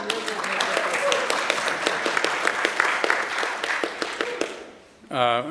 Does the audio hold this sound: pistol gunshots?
no